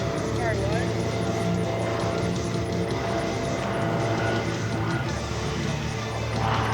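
A Decathlon aerobatic airplane makes an inverted low pass at the Flying Circus Airshow in Bealeton, Virginia, its engine a steady droning hum held throughout at a moderate distance, with voices over it.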